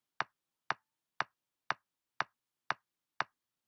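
An EDM kick drum pattern programmed in Soundtrap plays four-on-the-floor: eight short, punchy, evenly spaced hits about half a second apart, dry and alone with no other instruments or voices.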